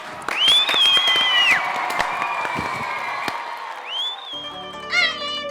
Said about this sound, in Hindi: भाई इस मॉडर्न डे रोमियो के लिए भी तालियां